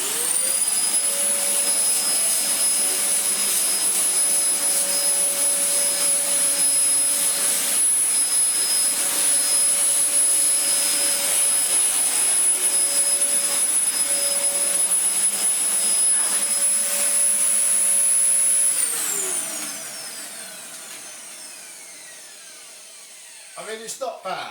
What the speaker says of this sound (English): I shall start back here, go forward slowly and we can watch the cyclone as it picks up the carpet cleaning powder